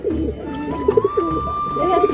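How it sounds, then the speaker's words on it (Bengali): Pigeon chicks coo close by in soft, throaty, repeated bursts against a quiet rooftop background. "এই যে কবুতরের বাচ্চা"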